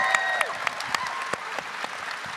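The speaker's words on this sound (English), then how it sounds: "Give them all a big round of applause" Audience applause at a Star Wars Celebration convention panel in Japan, a brief burst of clapping from a crowd with a few sharp individual claps standing out.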